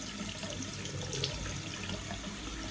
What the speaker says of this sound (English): So I'm going to use cold water. So I just come right in here, and I soak my brush